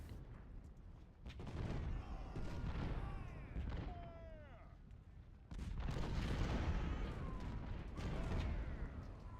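Artillery fire in the Civil War battle game Ultimate General: Civil War, with heavy booms and rumbling cannon blasts rolling in waves, while a few whistling shell sounds arc overhead amid the din of battle.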